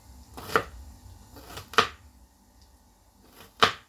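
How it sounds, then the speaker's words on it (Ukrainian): A knife chops vegetables finely on a cutting board, three distinct crisp chops spaced about a second apart, close and fairly soft with quiet pauses between and no voices. "Так, міленько-міленько поріжемо."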